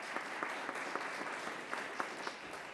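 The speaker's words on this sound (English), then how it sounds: "Let's give Stephen a round of applause." An audience gives a round of applause for Stephen Tucker, soft, steady clapping in a room, with a few sharper claps popping out of the even patter.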